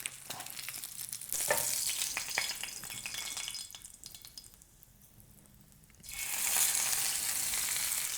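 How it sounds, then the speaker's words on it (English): Steak sizzling and frying in a hot pan, a steady loud hiss with a few crackles, dipping quieter mid-clip before the sizzle surges back strong after the meat is flipped. "Flip your steak."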